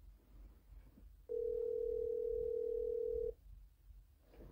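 Single steady telephone tone sounding alone for about two seconds at a clear, even level, starting and stopping abruptly, with quiet background murmur before and after.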